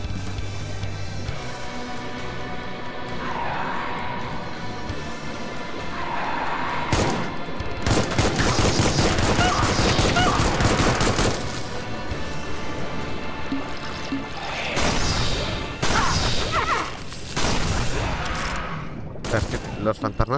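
Gunfire in the first-person shooter Supplice, with rapid bursts of shots and clattering volleys that grow denser and louder midway, mixed with other game noises while a voice talks over the action.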